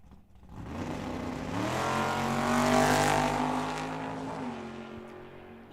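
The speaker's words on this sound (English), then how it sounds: "Luis Valenzuela with a 3rd generation Camaro. Rockets down that right side" A 3rd generation Chevy Camaro drag racing down the right lane at Tucson Dragway, its engine roaring loudly with a rising, sustained rev that swells to a peak midway and then fades as the car pulls away.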